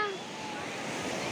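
Sea waves at a beach in Batangas make a steady, loud wash of surf with faint wind noise and no pauses across the short stretch.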